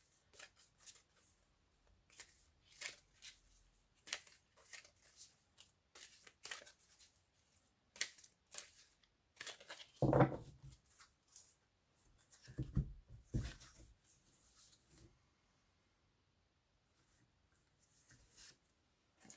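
Oracle cards being shuffled, soft irregular riffling and flicking of stiff cards close by, quiet with brief clustered bursts and short gaps, no one talking.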